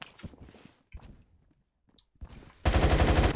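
Gunfire in the Roblox shooter Phantom Forces: scattered game sounds and shuffling, then a loud, rapid burst of automatic fire near the end, with no talking.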